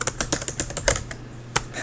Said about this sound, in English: one of those bad typing days